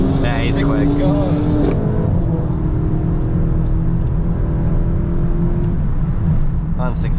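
A car sweeps through a corner at Lakeside Park race track during a Euro day, a steady engine drone and whir that builds and fades, loud and close, with people talking over it.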